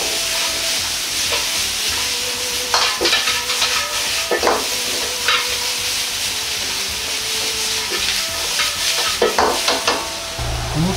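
Potatoes stir-fried in a pan for Chinese-style nikujaga give a steady, close sizzle with repeated scraping and stirring strokes throughout, no voices.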